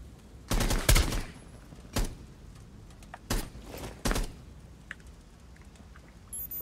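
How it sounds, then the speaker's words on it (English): Gunfire in the tactical shooter Rainbow Six Siege, heard as a few sharp separate shots, one tight burst followed by single cracks at irregular intervals, with low room noise in between. "I got a shot off on Capcan."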